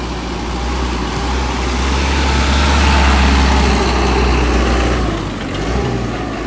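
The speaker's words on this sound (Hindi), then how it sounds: "ये ले जीप वाला आ रहा है" A jeep engine labors nearby on a mountain road in the Skardu area, a loud low rumble that builds toward the middle and then eases off as the vehicle passes.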